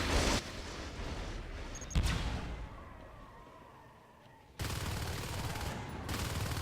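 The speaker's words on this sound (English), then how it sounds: "very nice shooting here by Big Sam" Sustained automatic gunfire in the Natural Selection 2 video game, a loud dense rattle that drops away midway to a quieter stretch, then resumes strongly.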